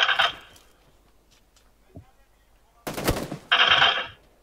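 Gunfire in the video game PUBG Lite comes in short bursts of loud, sharp shots at the start and end, with a brief thump in between and a voice heard among them.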